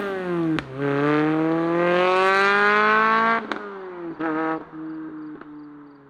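Camry-swapped Toyota MR2 engine pulling hard at full throttle, a loud, steadily rising rev held for about three seconds, then a shift or lift and shorter bursts of revving as the engine note settles lower, close and with no talking.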